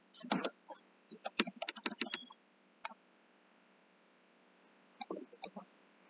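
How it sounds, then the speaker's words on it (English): Computer keyboard keys are pressed in quick clusters of crisp clicks, then a pause before a few more taps, close and fairly quiet with no talking. "press S on your keyboard"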